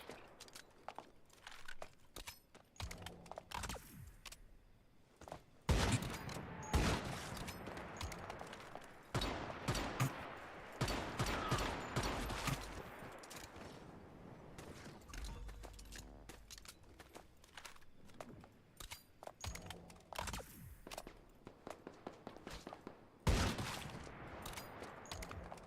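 Gunfire in a video game comes in scattered bursts and rapid volleys over about twenty-five seconds, sometimes in clusters and sometimes in single cracks, mixed with shuffling footsteps and crunchy game noises at a moderate, uneven level.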